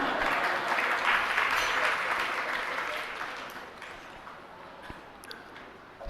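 Applause at a Hindi-language religious gathering: a broad crowd clapping that starts full and gradually thins and fades, leaving scattered faint claps at the close.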